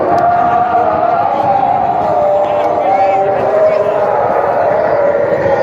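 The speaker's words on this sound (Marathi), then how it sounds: "लय लांब लांब लोक आहे, अशी इतकी गर्दी आहे" A huge crowd gathers at a Hindu religious event marking the close of a week-long harinam saptah, a steady, loud murmur of many voices spread wide and continuous, with a nearby voice speaking over it.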